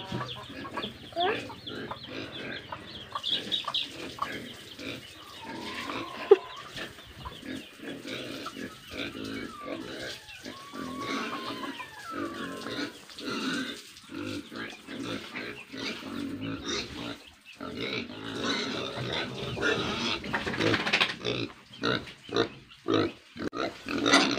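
Pet pigs being fed and bathed on a rural farm, grunting and snuffling close by amid splashing and shuffling, with chickens clucking in the background.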